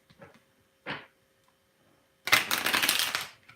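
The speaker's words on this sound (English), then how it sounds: "One last shuffle for Edna." A deck of cards is shuffled near the listener: a couple of brief taps and slides, then a dense, fast riffle lasting over a second before it fades.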